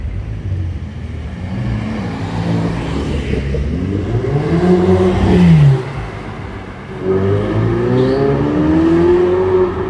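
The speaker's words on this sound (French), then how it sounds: "Ça tape des petits rupteurs" Sports car engine revving hard against the rev limiter on a street in Monaco, rising and falling harmonic sweeps with a sharp peak mid-clip, then a second strong rev, loud and fairly close.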